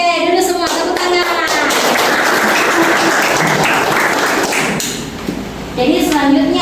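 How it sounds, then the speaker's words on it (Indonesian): Schoolchildren clap hands together in a classroom during an Islamic studies lesson, a loud burst of claps running for several seconds under children's voices before fading out. "Oke, duduk semua, tepuk tangan."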